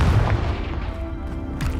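The Confringo fire spell explodes in Hogwarts Legacy, a loud, deep boom at the start that rumbles and fades away over the next second or so.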